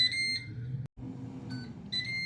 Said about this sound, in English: And it's beeped.